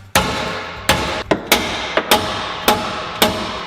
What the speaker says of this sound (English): we were trying to loosen it off with the hammer